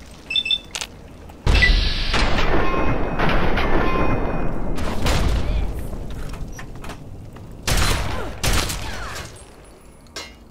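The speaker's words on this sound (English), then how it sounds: "Let's put on my combat shotgun." Several loud gunfire bursts from a combat shotgun in Fallout 3, with sharp broadband blasts and a sustained roaring stretch early on, then two more distinct bangs near the end, no talking.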